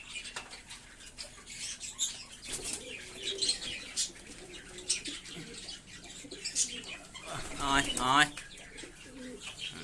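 Giribaz pigeons, White Mukhi and Kaldoma, cooing and scuffling in a cage, with sharp wing flaps and scrabbling at close range and a voice talking softly at times.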